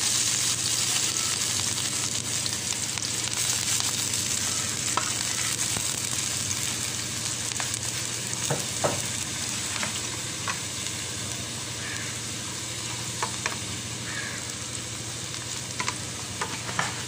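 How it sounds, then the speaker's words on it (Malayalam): Onions and raisins fry in oil in a pan as a garnish for egg biryani, giving a steady, close sizzle with occasional stirring scrapes throughout and no talking. "ഇനി ഒരു പാനിൽ കുറച്ച് എണ്ണ ഒഴിച്ച് മാറ്റി വെച്ച ഉള്ളി മുന്തിരിയൊക്കെ ഒന്ന് വറുത്തെടുക്കാം"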